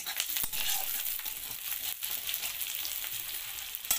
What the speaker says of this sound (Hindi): तो चलिए मैं पहले यहाँ पर प्याज को फ्राई कर लेती हूँ